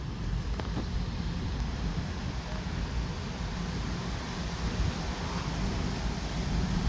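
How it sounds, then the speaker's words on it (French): Gusting wind arriving at the start of a strong thunderstorm in Bordeaux, a steady loud broadband rush that swells slightly toward the end, with no voices heard. "Regardez, regardez, il y a du vent qui arrive."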